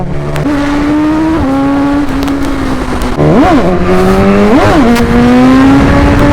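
A 2021 Suzuki Hayabusa motorcycle accelerates hard past a BMW bike, its loud, close engine note climbing through quick gear shifts with sharp blips between them.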